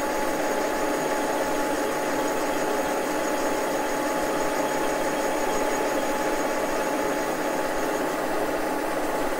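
Milling machine spinning a jig-borer-style boring head at 400 RPM, a steady, continuous mechanical hum and whir with a faint high tone, even and unbroken throughout.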